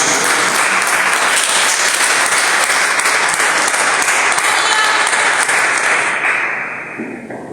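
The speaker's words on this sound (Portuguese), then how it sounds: "dê uma salva de palmas bem alegre para Jesus" A church congregation bursts into loud, dense applause during an evening service, sustained steadily for several seconds before fading out near the end.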